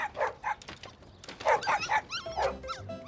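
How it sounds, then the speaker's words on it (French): A small puppy whimpers, yips and gives short high barks in an irregular series of squeaky cries, close and fairly faint, ending in thin whining. "C'est un des chiots qu'on entend."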